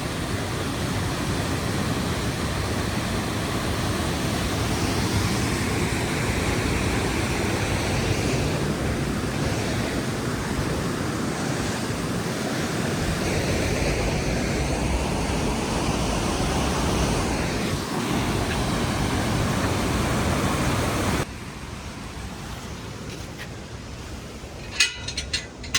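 Aira Force waterfall in the Lake District roars as a loud, continuous broadband rush of falling water, steady throughout, then becomes slightly quieter near the end.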